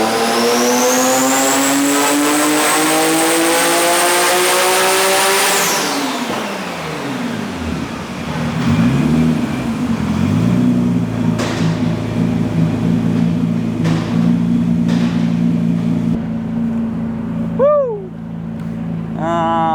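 A Nissan R33 GT-R's large RB engine revs hard on a dyno, a loud sweeping wail that rises, drops, then holds a steady heavy drone with sharp turbo and wastegate chirps, close and continuous.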